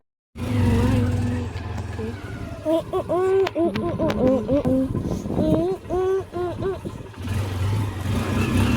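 A vehicle engine starts abruptly and runs with a steady, close rumble as it pulls away, while voices carry over the motor noise.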